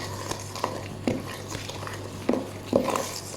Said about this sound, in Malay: Okay, jom kita letak sedikit esen vanila. Dan gaul lagi, sebatikan.